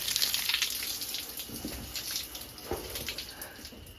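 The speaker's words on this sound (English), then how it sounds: "We have water!" Water runs from a tap on a farm, a quiet steady splashing stream with small drips and gurgles, close by and fairly soft, with no voices.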